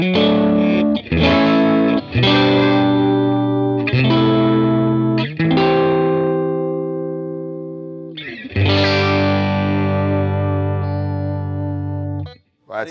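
Electric guitar, a Strat, played through a Goodsell Dominatrix 18 amp sounds loud and close: overdriven strummed chords and sustained notes with a shimmering, reverberant, chorus-like tone, ringing out in several phrases, no talking.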